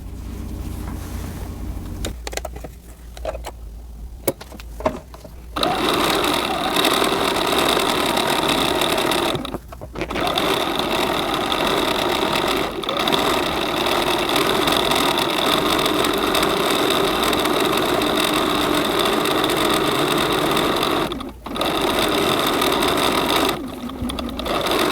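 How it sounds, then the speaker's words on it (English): A sewing machine stitches the hem of a ruffle on a small doll's skirt, running in long steady bursts with a few brief pauses, a close mechanical hum and rapid needle chatter. "you will finish sewing the hem"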